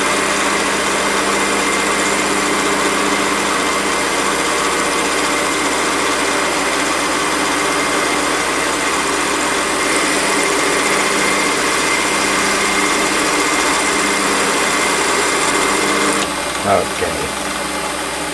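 A Warco metal lathe turns on power feed during a taper finishing cut, giving a steady whirring motor drone throughout with a brief clunk near the end.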